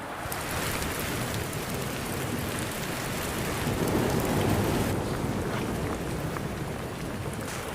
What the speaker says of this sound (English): caught out in a sudden thunderstorm